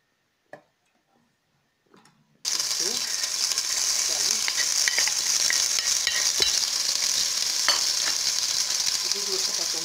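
Carrot, turnip and potato pieces drop into hot oil and burst into a loud, steady sizzle that runs unbroken to the end, after a quiet start with only a few faint knocks.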